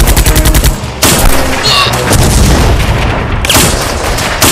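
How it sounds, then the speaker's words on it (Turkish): A battle scene fills with dense, loud gunfire and rocket blasts, rapid automatic bursts and heavy booms overlapping with barely a gap. "Komutanım roket atıyorlar!"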